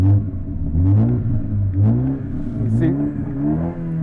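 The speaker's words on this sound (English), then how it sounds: "We're going to go ahead and blip the throttle just a few times." A 2021 Toyota Supra engine revs up in several quick throttle blips, each rising and falling in pitch, with someone speaking briefly over the rumble.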